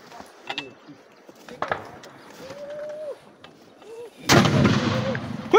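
Gunfire and artillery in fighting on Kigeregere mountain: scattered sharp reports early on, then a heavy, loud blast that rumbles on near the end, with voices heard faintly between the shots.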